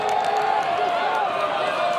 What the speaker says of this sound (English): the Australian crowd cheering on the Dingoes